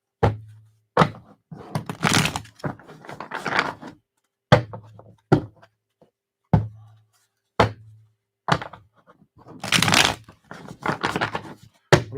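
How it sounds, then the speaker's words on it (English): Tarot cards being shuffled by hand, heard as a series of close, crisp riffling bursts separated by soft thumps and brief pauses. "2 more shuffles."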